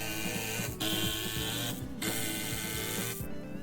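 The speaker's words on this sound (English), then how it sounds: "to finish off the joint, we drive some 3-inch exterior screws in from both sides" A power driver sinks 3-inch exterior screws into a wooden mailbox post, a steady close whirring grind broken by three short pauses between screws.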